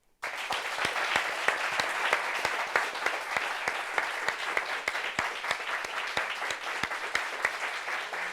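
A studio audience on a French-language talk show breaks into steady, dense applause to welcome a guest named Didier, starting abruptly and sustained evenly for several seconds.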